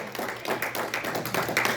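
A church congregation claps for God during a sermon, a dense, steady patter of many hands close by for a couple of seconds, with no talking over it.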